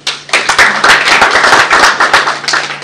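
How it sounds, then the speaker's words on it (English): An audience claps at an apparel and footwear industry launch event, loud and hearty close-up applause with sharp individual hand claps building quickly and sustained to the end. "I think he deserves a better clap."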